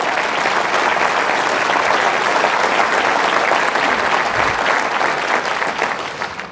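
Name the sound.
audience applause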